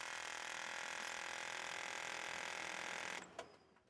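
Air conditioning vacuum pump on a 1985 BMW E23 735i running with a steady high-pitched electric whir, close up, then cutting off abruptly near the end followed by a faint click.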